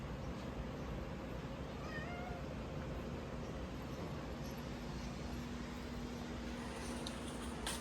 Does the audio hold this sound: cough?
no